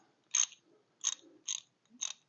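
An Allen bolt is loosened on a John Deere 1025R tractor, heard as four crisp ratcheting clicks spaced about half a second apart, close and alone.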